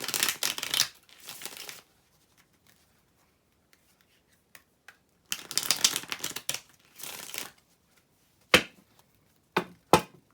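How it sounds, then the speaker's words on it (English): Fingers tap on a table during a tarot card reading, bursts of close, dry rapid taps and brushing separated by quiet gaps, ending with a few sharp single knocks. "I'm sorry for the noise. I keep tapping the table."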